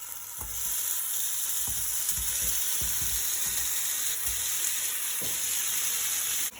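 Chicken pieces fry in a pan coated with Frylight spray, a loud, steady sizzle with intermittent scraping and tapping as the pieces are stirred and moved about.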